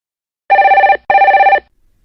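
Two bursts of an electronic telephone ring, each a buzzing trill about half a second long, loud and close, separated by a short pause.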